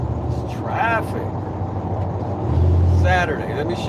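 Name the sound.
Saturday road traffic in Atlanta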